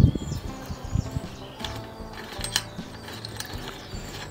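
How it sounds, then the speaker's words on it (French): A derailleur hanger alignment tool is threaded into a bicycle frame, giving faint metallic clicks and ratchet-like ticks at an irregular pace, with one heavier knock at the start. "cet outil, il a une visserie qui est la même que celle du dérailleur, et donc on va pouvoir venir le visser à l'intérieur"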